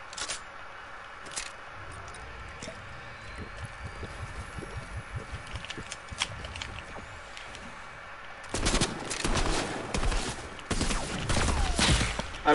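Video game gunfire crackles in scattered shots at first, then turns into loud, dense rapid bursts over the last few seconds.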